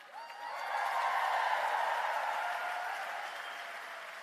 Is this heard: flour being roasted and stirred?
no